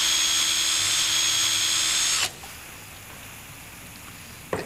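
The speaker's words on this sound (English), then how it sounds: "me drilling into this modified car tire" A power drill bores into a modified car tire, a loud, steady high-pitched whir for about two seconds that cuts off abruptly, leaving quiet room noise and a brief knock at the end.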